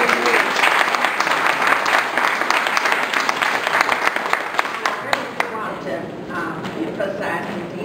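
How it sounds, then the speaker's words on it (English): Sustained audience applause at a community event, dense steady clapping filling the room for several seconds and tapering slightly toward the end. "you deserve applause"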